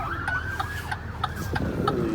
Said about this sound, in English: Looks like we got the police after us.